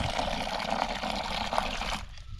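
Water is poured into a small aluminium sufuria of cooking beans, a steady close splashing stream that stops abruptly near the end.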